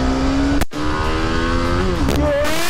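A TVS Apache RR310 motorcycle accelerates hard in first gear, the engine note climbing loudly and close, cut briefly by a gearshift before revving up again.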